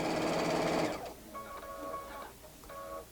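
Sewing machine stitching fabric, a close, fast buzzing run of stitches that stops after about a second, followed by two short, quieter whirring bursts of the motor.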